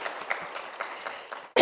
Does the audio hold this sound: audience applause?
yes